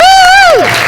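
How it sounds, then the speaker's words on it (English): A loud cheering whoop rises and falls over a live audience at a GeekyCon 2015 panel, then gives way to close, dense applause from the crowd. "Round of applause for our plan."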